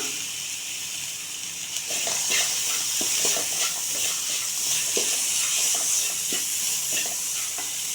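Corn kernels sizzle and hiss in a pan with carrots, curry leaves and spices over a low simmer, a steady bright frying noise with occasional stirring scrapes and clinks, no talk.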